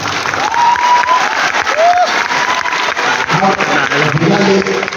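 Crowd applause and scattered cheering from an audience at a political rally in Motihari, steady and dense across the whole stretch, with a few shouted voices rising above the clapping.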